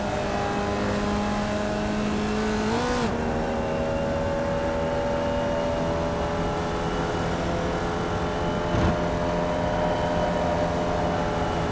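A Formula Vee race car engine in the iRacing sim at Lime Rock Park holds a steady, droning whine at high revs. The pitch dips briefly and recovers as the car shifts, then carries on.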